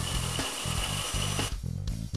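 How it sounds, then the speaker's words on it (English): A power drill bores into glass underwater, its motor whining in repeated start-stop bursts as the bit grinds, then settling into a rougher, pulsing tone toward the end. "Make sure when you do your drilling, it's done underwater."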